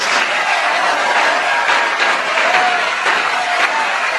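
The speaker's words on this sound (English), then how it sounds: "A special round of applause for them, please." A studio audience at the Just A Minute radio panel show gives sustained, even applause, a dense wash of clapping that stays loud and steady from start to finish.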